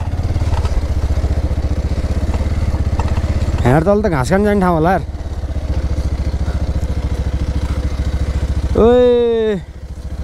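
A motorcycle runs loud and steady close by on a rough, untried track, someone talking over the engine between two short rising whoops or engine swells.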